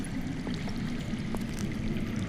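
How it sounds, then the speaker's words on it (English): Water flowing underground in a Game of Thrones video game scene, a steady rushing, pouring wash heard continuously at moderate level, no voices. "I hear water. From underground."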